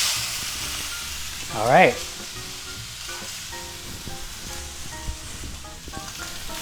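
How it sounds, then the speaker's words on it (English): A chuck steak sizzles in a hot pan with a steady, bright frying hiss and a louder burst of crackle near the start; someone speaks briefly over it. "So we're going to put our chuck steak right in there."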